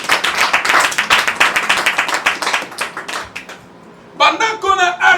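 A church congregation claps steadily in rapid, loud applause for several seconds, then it drops away into a brief lull before a voice speaks over it.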